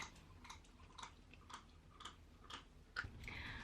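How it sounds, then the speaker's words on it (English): A teething pet chews quietly in the background, giving soft, rhythmic crunching bites about twice a second over a hushed room. "which is why there's a whole lot of chewing noises in the background"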